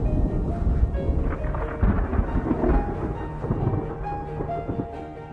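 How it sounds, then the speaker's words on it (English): Rolling thunder rumbles through a seasonal rainstorm over the plains of Zambia, with a steady wash of rain beneath it and no voices. "storms release more and more rain"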